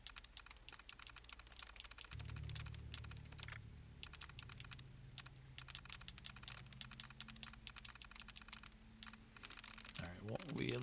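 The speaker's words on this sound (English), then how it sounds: "Man, that typing noise is" Dense, continuous keystroke clatter of computer keyboard typing from Fallout 4 fills the stretch, steady and fairly close over a low humming game ambience, with a louder burst near the end.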